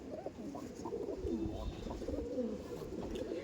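Andhra pigeons coo in soft, low repeated bursts close by, a steady murmur of several birds with no talk over it.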